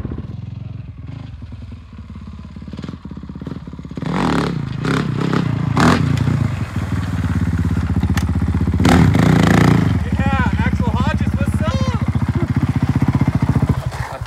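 Motorcycle with no working rear brake, engine running steadily and revving up as it is ridden and pitched into a stoppie, with clattering and scraping bursts over a constant mechanical drone; people talk over it.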